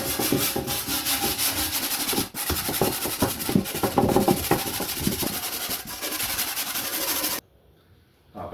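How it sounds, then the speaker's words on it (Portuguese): A steel wire brush scrubs the inside of a home fireplace in rapid, continuous rasping strokes, close and loud, with one brief pause partway through before the brushing stops near the end. "Vamos iniciar com a escova de aço."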